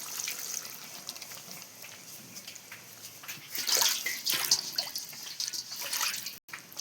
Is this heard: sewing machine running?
no